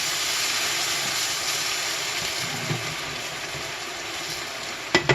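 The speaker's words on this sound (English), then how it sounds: "my rice is boiling just with the tomato sauce" Rice simmering in a pot with tomato sauce for Mexican rice gives a steady, close bubbling hiss throughout, with a couple of sharp knocks near the end.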